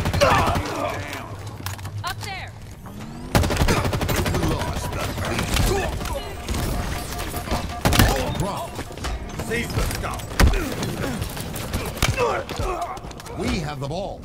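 Rapid gunfire bursts and thudding impacts in Halo Infinite multiplayer, repeated volleys over continuous game noise, with voices talking throughout.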